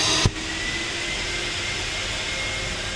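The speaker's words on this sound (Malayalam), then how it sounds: "എല്ലാ ഡേർട്ടും ഈ മെഷീൻ സക്ക് ചെയ്തെടുക്കുകയാണ്." A carpet extraction machine sucks dirt out of a shampooed car seat, a steady loud roaring suction after a brief knock at the start, with no voices.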